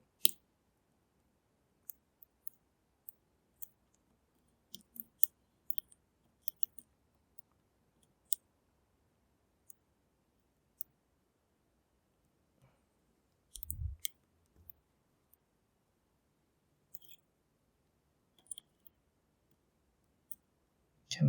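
Picking a Yale Superior clone lock produces faint, sparse metallic clicks and tiny ticks from the pins, scattered irregularly across near-silence, with a brief muffled rattle midway.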